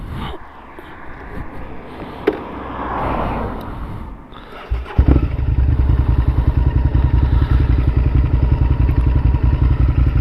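A motorcycle riding out on a country road: first a rumbling, windy passage with a sharp clunk, then after a short lull a loud, close, steady idling engine chug after parking on mud.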